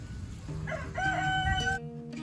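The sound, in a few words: young chickens (pullets) clucking and crowing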